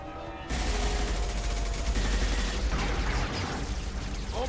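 Heavy gunfire from a Mass Effect 2 battle breaks out suddenly and keeps going as a dense, loud fusillade of overlapping shots, with mechanical clatter mixed in and no speech.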